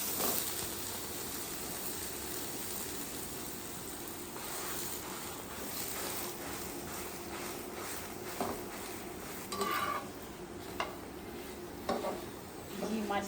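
Butter paratha frying on a hot griddle in a village kitchen, a steady soft sizzle with occasional scraping and stirring clicks toward the end.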